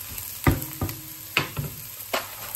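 Butter fries in a pan over a low, steady sizzle, with a few sharp clinks or taps standing out at irregular moments.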